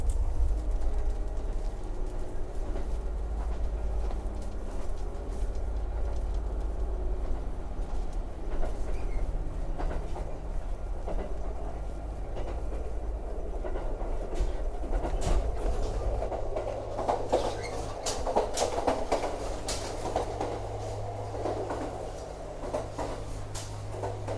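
A diesel train in Japan rumbles steadily along with a low engine drone and rhythmic clickety-clack of wheels over rail joints, heard from inside the carriage.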